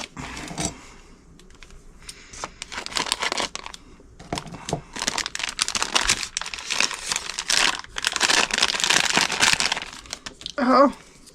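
Cherry-scented Fruity Fidget Roll in plastic packaging crinkles and crackles in bursts as it is opened and handled close up, with talk over parts of the rustling.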